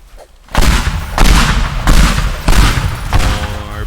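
Pipe bombs exploding in the video game Teardown, a quick string of four loud booming blasts about a second apart, each with a rumbling, crackling tail, and no voices.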